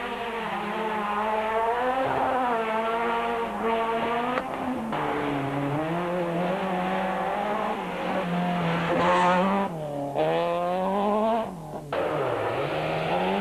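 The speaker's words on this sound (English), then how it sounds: "firstly Glenn Durman in the leading Class C Toyota Conquest and then Leon Buerta in his Class B 16-valve Golf blast past the crippled Sentra" Rally cars, a Class C Toyota Conquest and a Class B 16-valve Golf, revving hard as they race past, engines rising and falling through gear changes, loud and near, with brief tire noise.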